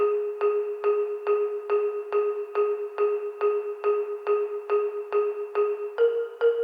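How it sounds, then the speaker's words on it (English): A bright xylophone tone strikes the same pitch over and over at a steady quick pace like an arpeggiator, the final two strikes jumping slightly higher. "Then we have a xylophone that's only playing one note"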